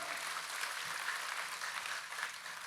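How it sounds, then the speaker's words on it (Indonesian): Distant, faint applause from a church audience rolls on evenly as a soft wash of clapping, without voices over it. "Kita kasih tepuk tangan yang paling meriah buat Tuhan kita"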